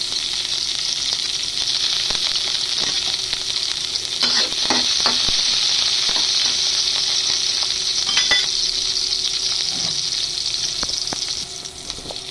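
Onions sauté in a pan after garlic for a vegetable-and-chicken dish with shrimp paste, giving a steady close sizzle broken by a few stirring scrapes, with no talking.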